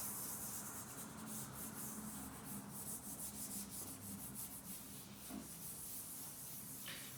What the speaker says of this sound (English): Rub with your fingers.